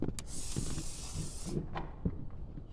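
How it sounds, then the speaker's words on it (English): WD-40 aerosol sprayed onto a sheet of 320-grit sandpaper, a steady close hiss lasting about a second and a half, followed by small handling taps and rustles. "soak it in WD-40"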